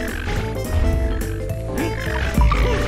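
Toads croak repeatedly in the video game Donkey Kong Country Returns, close and clear over steady game music, with a louder burst of croaks near the end.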